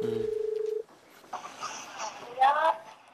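A telephone call connects for a radio-style show: a short burst of dialing tones, then faint line noise and a muffled ringing or connection sound, with voices faintly under it.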